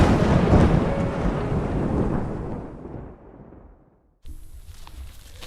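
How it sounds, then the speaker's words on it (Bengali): A Kal Baishakhi thunderstorm roars loudly with wind and heavy rain, then fades away to near silence. After a brief gap, a steady, softer hiss of rain continues. "ততক্ষণে ঝড় একটু কমে এসেছে, কিন্তু বৃষ্টি তখনও পড়ছে"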